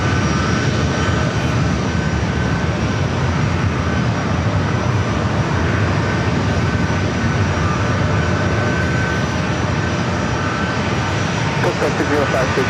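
An airliner lands at San Diego airport on runway 27, its engines a loud, continuous broadband roar that holds steady throughout, with a voice talking over it.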